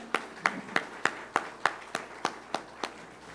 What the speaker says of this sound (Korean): 우리 환영하며 축복하며 박수하겠습니다